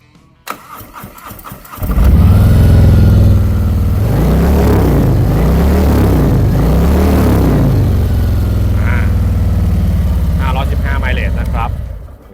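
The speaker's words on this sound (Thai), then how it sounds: "ทีนี้มาฟังเสียงท่อกันหน่อยมา" 2021 Harley-Davidson Street Glide Special 114 with high output chrome exhaust pipes starts up with a sharp crank, then settles into a loud, deep, lumpy idle with a few rhythmic throttle blips, close and alone.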